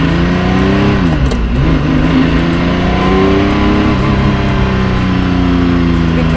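A supercar engine revs loudly and continuously at close range as the car pulls out of a driveway, its pitch dipping and rising again through the throttle changes, with no talk over it.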